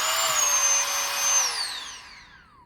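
A small electric motor of an Etenwolf Air 3 Mini air pump whines at a high, steady pitch, then winds down as it shuts off, the tone sliding lower.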